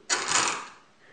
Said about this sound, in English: the gear's got a bit of play, and that's what makes all this rattling sound too